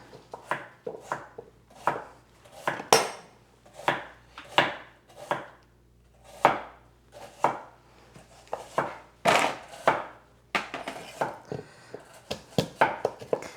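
A knife chops through cassava on a board in a run of sharp, close thuds, some spaced out and others in quick bursts, with no talking.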